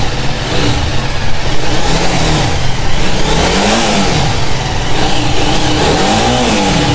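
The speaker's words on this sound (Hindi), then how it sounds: "थोड़ी रेस दे" A vehicle engine, loud and close, revs up and down on the throttle for about seven seconds, with rising and falling pitch sweeps over a steady rumble near a suspension bridge.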